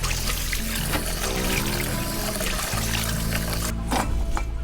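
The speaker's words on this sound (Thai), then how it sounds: "ทีนี้ก็ทำการล้างผักได้เลยนะครับ ล้างที่ฝุ่นออกให้หมดนะครับ ล้างสักสองสามน้ำนะครับ" Running water pours and splashes over mustard greens as they are rinsed for pickling, a continuous close trickle and gush that shifts in tone as the greens are moved around.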